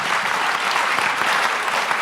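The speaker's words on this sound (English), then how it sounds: "Another round of applause to our panel" A conference audience at a summit fireside chat claps loudly and steadily for the panel, a dense, even wash of applause that holds at full strength from start to finish.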